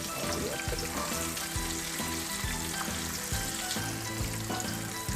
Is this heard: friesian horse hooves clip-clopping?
no